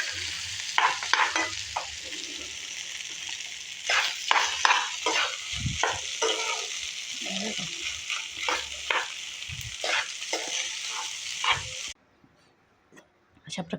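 Rice for phodnicha bhat being stirred and fried in a pan, with a steady sizzle broken by repeated scraping spoon strokes, a voice talking at times, then a sudden cut to near silence at the end.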